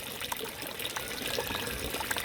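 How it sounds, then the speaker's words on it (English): Water trickles and burbles steadily through the inlet of an NFT hydroponic system, a close, soft running sound with small splashes. "Can you see the movement of the water over here?"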